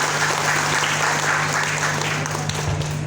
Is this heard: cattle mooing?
no